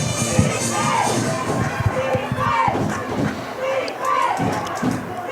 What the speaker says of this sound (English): Crowd chants defense,